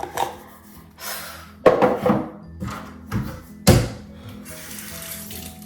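Water runs from a tap during an at-home facial, a splashing, gushing flow with a few sharp thunks and knocks of hands or objects at the sink, fairly close and loud.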